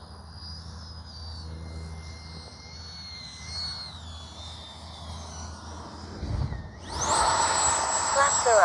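A Freewing 80mm F-22 Raptor RC jet flies overhead, its thin, steady turbine-like whine drifting in pitch, then swelling into a loud, close roaring rush as it passes near the end.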